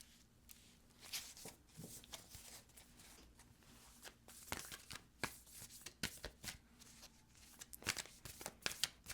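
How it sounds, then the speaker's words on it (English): Tarot cards being drawn from a deck and shuffled, soft scattered riffles, slides and flicks in irregular bursts, close and quiet, with no voices over them. "bear with me here as I get these cards out for your person"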